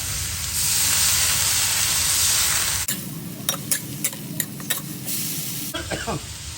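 Catfish fries in a hot pan with chili paste and garlic, starting with a loud, continuous sizzling hiss. It then turns quieter, with sharp clattering stirs and scrapes.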